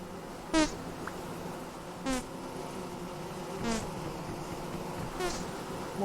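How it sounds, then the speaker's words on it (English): Angry bees buzz in the video game Vintage Story, a steady insect drone with four louder rising buzzes recurring about every one and a half seconds. "Angry bees."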